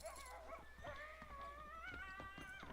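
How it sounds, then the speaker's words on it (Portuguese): Coyotes in Red Dead Redemption yip and howl in wavering, rising cries at mid distance, several overlapping calls over a steady low hum of game ambience. "Tô escutando coiote."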